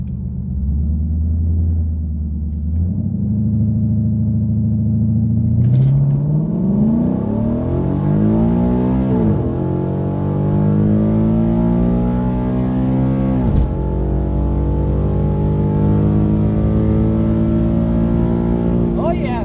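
A powerful engine in a 2015 Mustang with a 6R80 transmission and exhaust modifications revs up and accelerates hard down a drag strip, pitch climbing through repeated gear shifts, loud and close, with a second engine rumbling alongside.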